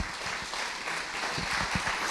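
A church congregation claps together, dense and continuous, with steady applause close by and filling the space throughout.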